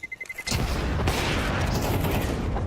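AK rifle gunfire in Counter-Strike: after a few soft ticks, a dense burst of shots erupts close and loud and keeps ringing in a sustained, noisy roar.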